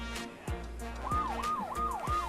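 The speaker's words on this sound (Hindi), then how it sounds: "साइरन्स भी है यहाँ पर।" Warbling siren from a toy ride-on vehicle at a toy fair in Pragati Maidan, sounding close and fairly loud, rising and falling in several quick repeated sweeps over a busy background.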